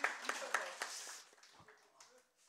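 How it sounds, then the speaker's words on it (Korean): A church congregation at a Sunday worship service gives a short burst of clapping that tapers off within a couple of seconds, mixed with a voice speaking over it. "박수 한번 주세요."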